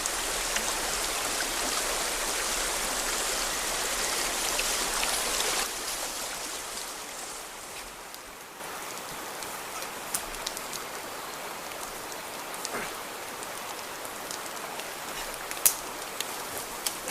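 A river rushes in a continuous broadband roar, close and steady throughout, with a brief dip midway and a few sharp splashes or clicks near the end.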